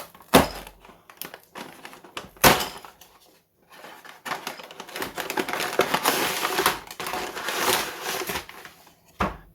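Paper bags from a LEGO City 4X4 Off-Road Mountain Truck 60447 set being handled up close, sharp crinkles and rustling in irregular bursts, with a few loud snaps early on and denser crumpling later.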